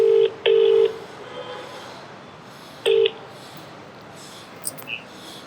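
Several short electronic keypad tones as a phone number is dialed, two quick beeps near the start and one more about three seconds later, over a faint room hiss.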